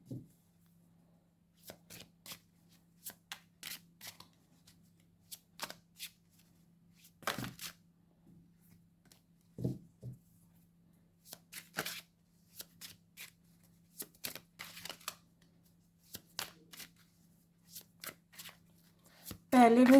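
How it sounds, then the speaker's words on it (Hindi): Tarot cards being shuffled and laid out, giving a run of soft, quick card flicks and slaps spread through the passage, near and fairly quiet, with a low steady hum underneath. "पहले मैं सारे कार्ड्स निकाल रही हूँ।"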